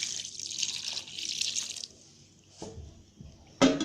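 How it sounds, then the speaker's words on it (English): Water poured from a tap into okpa paste, a steady close hiss of running water for about two seconds, then faint drips and a few wet splashes. "So I'm going to add more water to this"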